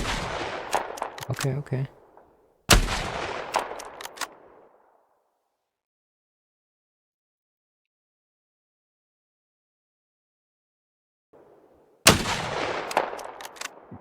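Rifle shots ring out in a hunting video game: two loud, sharp reports with decaying echoes near the start, a long silence, then another loud shot near the end, with brief speech in between.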